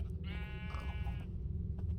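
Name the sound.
sheep bleating in the video game Minecraft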